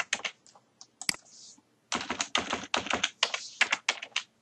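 Fingers tap a computer keyboard in quick bursts, separate clicks at first, then a brief pause and a faster run of keystrokes, close and clear with no talk.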